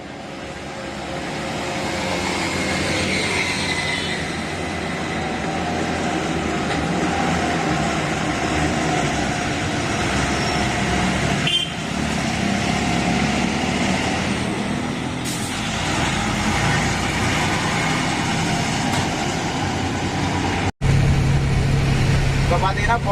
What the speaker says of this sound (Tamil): கொட்டினர் வெளியே பார்க்கிங்லேருந்து குமார் வண்டி வெளியே எடுத்துட்டு அவுட் பண்ணிட்டு வெளியே வராரு